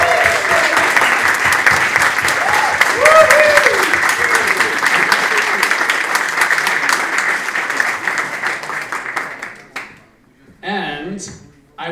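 A large audience at student presentations applauds loudly and steadily, with some cheering voices mixed in, before the clapping fades out and a few people start talking.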